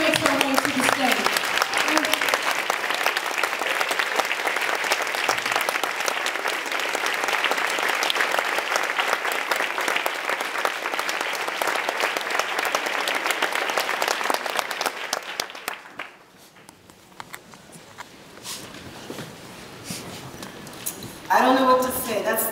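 Sustained, dense applause from an awards-event audience honoring a recipient walking to the stage, loud and steady for about fifteen seconds before dropping away, followed by a voice beginning to speak.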